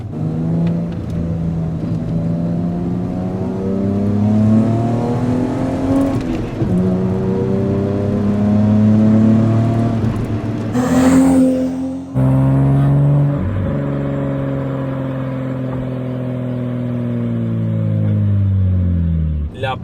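A 1987 BMW 320iS E30 engine revs hard toward 7000 rpm in a series of loud, close rising and falling sweeps, with a brief break partway through before climbing again.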